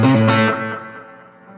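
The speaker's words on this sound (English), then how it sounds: "I'm using a Swart STR Tremolo 5-watt tube amplifier with Soulcactus mods." An electric guitar plays through a Swart STR Tremolo 5-watt tube amplifier with Soulcactus mods, using onboard reverb, analog delay and fuzz. One loud, distorted chord rings out alone and decays over about a second and a half.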